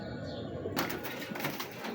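Teddy pigeons at a breeder's home give a soft coo under steady broadband background noise, with a brighter rush of sound entering partway through.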